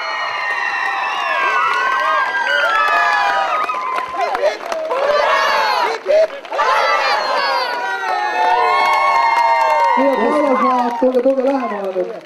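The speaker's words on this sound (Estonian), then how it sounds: "Ja kestvad ovatsioonid Laulasmaale." A crowd at a summer youth work camp event cheers and shouts for Laulasmaa, a loud sustained mix of children's and adults' voices with applause, with one voice calling out over it.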